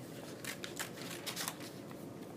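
Scissors snip through two layers of paper held together. The cuts come as several quick, soft, crisp strokes in a row, faint and close up against a low steady hiss.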